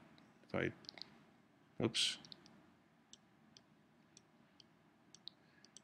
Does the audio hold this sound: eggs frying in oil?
no